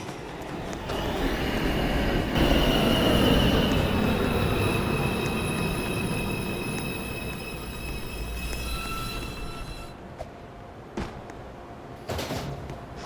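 An automated NYC Subway R62A 1 train rumbles into a station, loud and close, with high metallic wheel squeals and a steady roar that gradually eases as it slows, then a few clunks.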